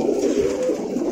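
A large female pigeon at a pigeon seller's in Meradia, Dhaka, gives a close, continuous low throaty coo that rolls on without a break, with no talking over it.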